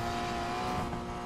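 Race car in Need for Speed Payback roars at a steady high pitch, a loud, sustained engine drone with tire noise as it speeds along a road race, with no voices over it.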